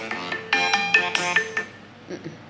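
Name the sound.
phone alarm ringtone going off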